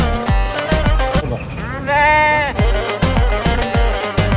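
A lamb bleats in a drawn-out, wavering cry near the middle, framed by loud thumping knocks and bumps before and after, with nobody speaking.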